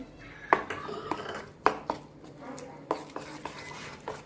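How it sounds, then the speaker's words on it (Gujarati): Handvo batter mixed with peanut paste in a bowl, a spoon scraping and clinking against the bowl in several sharp knocks amid soft stirring, with faint talk in the background. "સરસ મસ્ત મિક્સ કરી લઈએ."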